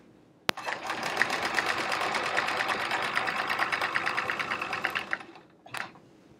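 A sewing machine runs fast and steady while free-motion quilting a chevron V on a quilt, the rapid needle chatter holding for several seconds before stopping, followed by a brief click.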